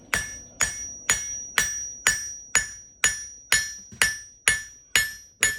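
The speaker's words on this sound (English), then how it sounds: "Like I said, this hammer's just going up and down." A blacksmith's hammer strikes hot metal while forging a simple leaf: eleven loud, evenly spaced blows, each with a bright metallic ring that fades before the next, close and with no talk.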